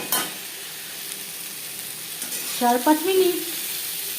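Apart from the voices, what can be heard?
eggplant frying in oil with salt and turmeric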